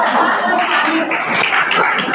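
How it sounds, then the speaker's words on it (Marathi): Friends at a ceremony clap in a loud, dense, continuous burst of applause mixed with chatter and a little laughter. "मैत्रिणींच्या टाळ्या फार कमी आहे, खूप टाळ्या झाल्या पाहिजे."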